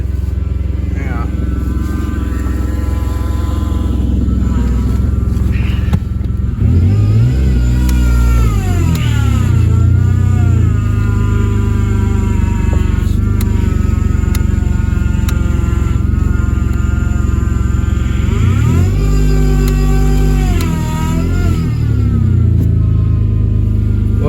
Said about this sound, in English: See if I can get that power steering pump to quiet down.